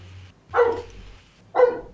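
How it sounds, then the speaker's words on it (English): A dog gives two short, close barks about a second apart, with quiet background noise between them. "Speaking of barking"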